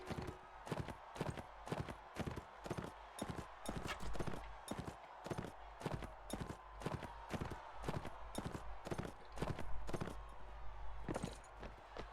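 Video game horse hooves clip-clop in a steady walking rhythm, clear and close, continuing throughout with faint background ambience.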